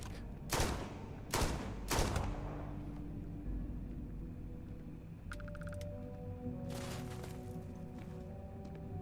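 Gunfire in the video game Starfield: three sharp, loud shots in quick succession early on, then a brief electronic burst and a further shot later, set over a low humming game soundscape.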